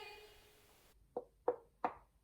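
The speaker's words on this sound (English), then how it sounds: "There's no use in knocking." Three firm knocks on a door follow a fading tone, evenly spaced and close by, each a dull thud in an otherwise quiet room.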